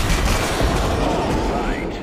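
Dense rapid gunfire from the jet combat game Wings of War: Modern Warplanes, a loud continuous crackling fusillade with rumbling booms, with a voice partly under it.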